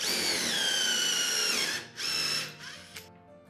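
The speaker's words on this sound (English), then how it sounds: "I'm drilling the holes slightly offset." A power drill bores screw holes through a steam-bent lapstrake canoe plank: a loud steady whine for nearly two seconds, a brief pause, a second short burst, then it winds down to quiet.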